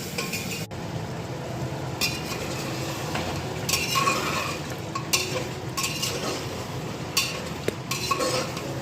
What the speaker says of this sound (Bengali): মাটন কষানো চলছে